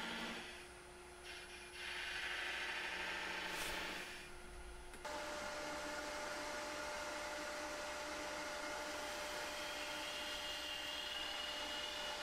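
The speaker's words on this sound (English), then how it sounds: "this time going in at some depth using a skew chisel, and this will just kind of set the depth that I'm going to go for on the beads" Skew chisel cutting the depth for beads on a wood lathe while turning a grill scraper, with a steady motor hum and whirring spindle beneath a scraping cut that shifts partway through.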